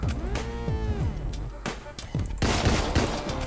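Rapid gunshots from a small, powerful gun in the video game Deadbolt ring out in quick bursts with metallic echoing tails, loud and close, one shot after another through the moment.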